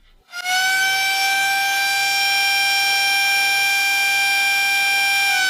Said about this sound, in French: Nous avons une sirène faite avec de l'ingénierie inverse.